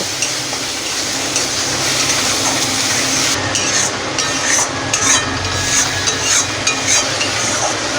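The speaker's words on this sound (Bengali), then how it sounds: "এবারে আমি আদা আর কাঁচা লঙ্কা, রসুন বাটাটা দিয়ে আর একটু কষে নেব," Ginger, green chili and garlic paste stir-fried in a pan for a Bengali fish curry, a close, continuous hiss of sizzling with scraping stirs and light clinks of the utensil against the pan, no talking.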